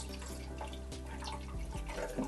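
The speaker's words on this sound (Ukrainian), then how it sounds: "І тепер до першої відміточки ми наливаємо засіб для декальцифікації." Descaling solution is poured into the water tank of a De'Longhi Magnifica S coffee machine at home, a faint, steady trickle of liquid with a few soft drips and splashes near the end.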